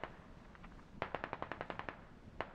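A rapid burst of automatic gunfire rings out in the military shooter game Squad, roughly a dozen fairly distant shots in a quick even rhythm, followed by a lone shot moments later.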